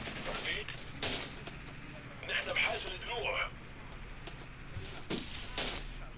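An RPG team fires in Syrian Warfare, a police response to a terrorist attack, with crackling bursts of automatic gunfire and sharp single shots recurring throughout, steady battle noise underneath.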